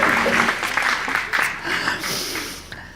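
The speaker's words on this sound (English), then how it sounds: "Yeah, you can applaud that." A church audience at a candlelight Christmas service applauds steadily after a carol, a dense, continuous clapping that holds at an even level and thins slightly toward the end.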